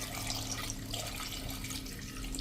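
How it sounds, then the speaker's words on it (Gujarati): Water poured into a cooking pot to about an inch deep for Gujarati varadiyu shaak, a steady close rush of running water lasting a few seconds and then stopping abruptly. "એમાં થોડુંક અડધો ઇંચ 1 ઇંચ જેવું આપણે નીચે પાણી રહે ને એટલું પાણી નાખી દેશું"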